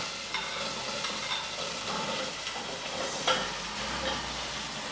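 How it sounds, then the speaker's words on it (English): Ginger and carrots sizzling in ghee in a pot, a steady soft frying hiss with faint stirring clinks, close and alone without talk. "So the ginger here, it's starting to sizzle and cook quite nicely."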